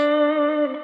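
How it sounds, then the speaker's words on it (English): A reverse reverb effect built from a plate impulse response recorded on an old 1990s Quadriverb hardware unit: a steady, tonal, reverberant wash that holds evenly for under a second, then thins and tails off. "So if you want reverse reverb, I've got like a plate impulse response here,"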